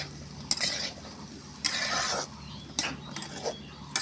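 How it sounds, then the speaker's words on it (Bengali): Okra and potatoes stir-fried with spices in a pot, a soft sizzle under a low hum, broken by a few louder bursts of spatula scraping and metal clatter, with no talking. "এখন ঢেঁড়স আর আলু দিয়ে দিলাম। দিয়ে এটা মশলার সাথে এটা কষে নিব"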